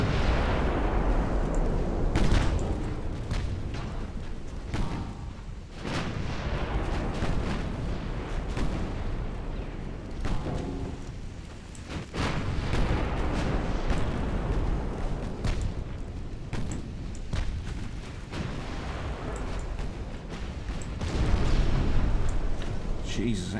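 Rapid secondary guns on a warship fire continuously in a naval combat game, giving a loud, dense run of booms and bursts with no let-up, while a voice talks over them at times.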